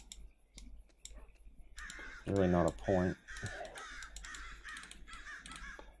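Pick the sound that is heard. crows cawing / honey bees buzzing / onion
crows cawing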